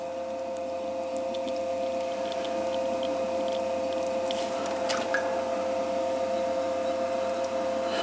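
Wet clay on a spinning pottery wheel, with water added while an enclosed form is thrown: soft squelching and slippery rubbing over a steady motor hum, with a few faint clicks and drips.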